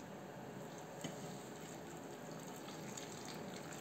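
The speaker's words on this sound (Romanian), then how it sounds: "Și turnăm cu grijă să nu ne opărim." Boiled water poured from a pot over cucumbers for quick vinegar pickles, a soft, steady splashing stream that runs continuously and fairly quietly, with no talk over it.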